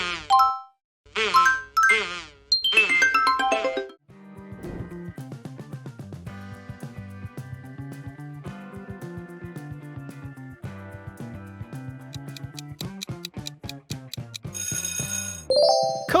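Short cheerful musical jingle of the Cocomelon logo, with bright chime-like notes in quick bursts, followed by a steady upbeat electronic melody with a rhythmic beat and a sparkling flourish at the end, loud and clear with no talking.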